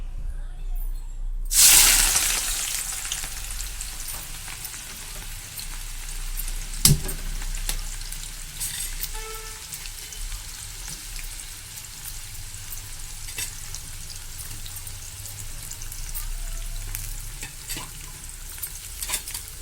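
Two thinly sliced onions hit hot oil for deep frying with a sharp crackling burst, then settle into a steady, close sizzling hiss that continues throughout.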